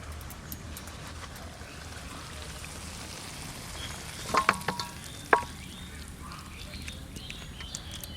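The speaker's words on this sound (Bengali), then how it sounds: "একদম অল্প আঁচে রান্না করলাম, আর হালকা হালকাই দেখেন ফুটছে" Chicken curry with mint leaves simmering in a covered pot on low heat: a faint, soft, steady bubbling and sizzle, broken by a few sharp clinks of a lid or utensil partway through.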